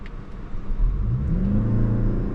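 A 2026 Toyota Crown Nightshade accelerating in sport drive mode, its engine hum rising steadily in pitch as it pulls, heard from inside the cabin without talk.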